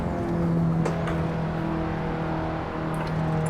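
Engine of a KTM X-Bow R race car in Assetto Corsa, a steady mid-revving drone carrying speed through a corner at the Nordschleife, close and continuous with no talk over it.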